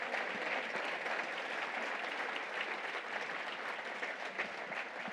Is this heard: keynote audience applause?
yes